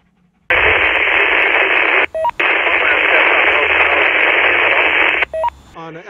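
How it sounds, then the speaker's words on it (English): Radio transceiver on analog FM at a mountain peak hisses with loud broadband static for several seconds, broken by two short squelch tail chirps, with the faint weak transmission buried inside the noise. "That transmission was in the noise."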